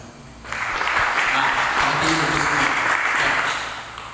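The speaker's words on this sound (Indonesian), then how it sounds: "berikan tepuk tangan" A church congregation breaks into applause after a brief quiet moment, clapping swelling quickly and holding steady for several seconds before easing slightly, with faint murmurs of voices underneath.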